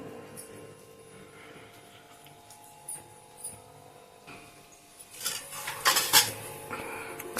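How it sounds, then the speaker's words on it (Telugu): Chicken liver fry being stirred in a metal pan, with a utensil scraping and clinking against the pan, quiet at first and getting louder and busier toward the end, with no talking. "కలుపుకుందాం ఒకసారి."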